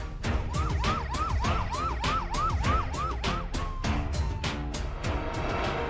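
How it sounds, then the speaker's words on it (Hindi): A fire brigade vehicle's siren wails in rapid repeating yelps, loud and close, with a sharp horn-like blare cutting through the rising and falling tone. "फायर ब्रिगेड की टीम घटना स्थल के लिए रवाना हो जाती है"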